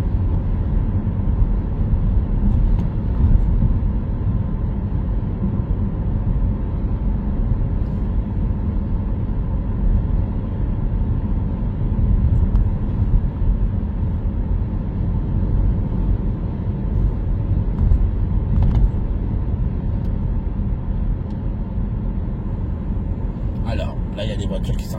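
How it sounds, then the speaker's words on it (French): Steady low road rumble from inside a car cruising on a French motorway during a driving-test route near Saint-Brice-sous-Forêt, continuous and even throughout with no break. "Bon bah là on continue à rouler hein."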